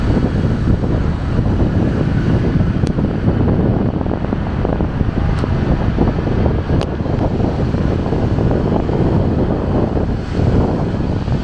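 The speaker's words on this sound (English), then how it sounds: "Very windy. This little alleyway here." Strong wind gusts buffet the microphone in a narrow city alleyway in Bristol, a loud, continuous roar with no one speaking.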